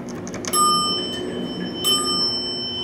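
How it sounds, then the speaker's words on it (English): A 1989 Montgomery traction elevator hall call bell at a resort rings twice, each a bright, ringing metallic chime with a lingering tone, close and clear over quiet room ambience. "I love that bell."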